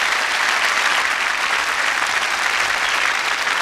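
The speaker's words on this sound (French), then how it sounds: "Sergio, sous vos applaudissements, s'il vous plaît." A concert crowd applauds a band at Les Voix de l'Océan Indien 2017, with dense, loud, continuous clapping and no voices.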